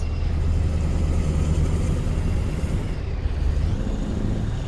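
A steady, low engine drone from a pickup truck cruising along in a video game, constant and close with no voices.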